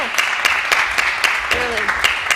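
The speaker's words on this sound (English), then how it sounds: "another round of applause for all of the masterclass participants" Audience applauding oboe masterclass participants at a recital, a short burst of clapping with sharp individual claps standing out, close and fairly loud, while a voice briefly cheers over it.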